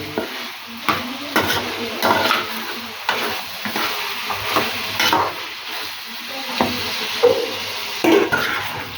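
Mutton curry ingredients being stirred in a pan, a spoon scraping and turning the mix in uneven strokes over a soft sizzle, close and with no talk.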